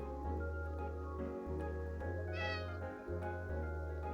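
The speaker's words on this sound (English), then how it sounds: "Come here, cat." A cat in a video game gives a short, clear meow over a steady backdrop of game music.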